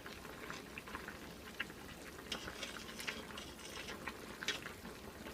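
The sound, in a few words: stirring hot and sour soup in a pot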